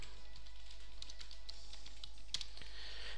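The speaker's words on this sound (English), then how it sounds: "if you just go on to Google and you type in Filezilla" Soft, quick keystrokes tap on a computer keyboard at close range over a low steady hum, with a brief cluster of faster taps near the end.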